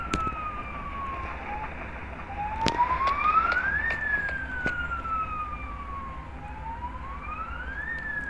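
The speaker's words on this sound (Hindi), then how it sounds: "ओ भाई एक गाड़ी तो आ गई, चलो पुलिस की।" A police car siren from the Rope Hero: Vice Town video game wails with a rising and falling pitch, loud and steady for the whole stretch, with a few sharp clicks over it and no talking.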